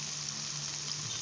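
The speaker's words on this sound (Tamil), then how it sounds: "சின்ன வெங்காயத்தை நல்லா கலருங்க. உப்பு வந்து வதங்குறதுக்காக நான் வந்து உப்பு ஆட் பண்ணுறேன்." Small shallots with salt sizzle steadily in hot oil while being stirred for a Tamil-style squid gravy, a close, even broadband crackle without pauses.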